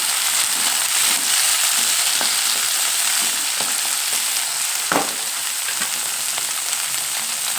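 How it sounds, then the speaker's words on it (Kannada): Finely chopped tomato frying in oil in a pan for palak dal, a loud steady sizzle and crackle throughout with a brief stir clatter midway and no voices. "ಈಗ ಒಂದು ಸಣ್ಣಗೆ ತುಳಿದು ಟೊಮೆಟೊ ಹಣ್ಣು ಹಾಕೊತೀನಿ ನಾನು ಇದನ್ನು ಸ್ವಲ್ಪ ಇದರ ಫ್ರೈ ಮಾಡಿಕೊಂಡು"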